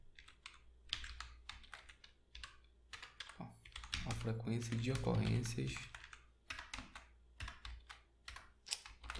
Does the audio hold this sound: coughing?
no